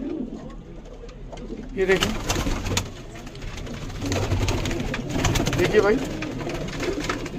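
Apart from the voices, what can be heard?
pigeons cooing at a pigeon market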